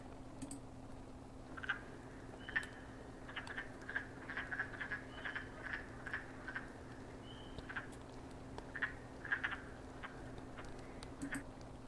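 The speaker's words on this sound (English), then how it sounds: "here's a wood frog" Wood frogs call in repeated short clucking croaks, spaced irregularly across the stretch, faint and distant over a low steady hum.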